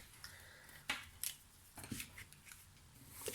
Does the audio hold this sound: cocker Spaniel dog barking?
no